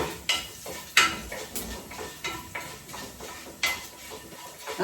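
Fenugreek seeds and black peppercorns frying in a pan, with a steady crackle broken by sharp metallic clinks and scrapes of stirring at irregular intervals, close and moderately loud.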